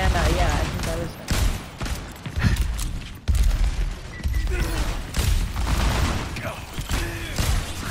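Gunfire in a video game crackles in repeated bursts and sharp shots, mixed with mechanical clanks under a steady game soundscape, with a person talking over it.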